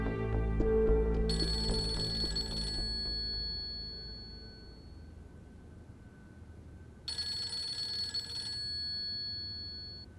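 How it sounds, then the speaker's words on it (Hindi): A telephone rings in a TV drama scene, two bursts of electronic ringing a few seconds apart, fairly loud and clear over a low background hum with no talk. "आतिर की कॉल है"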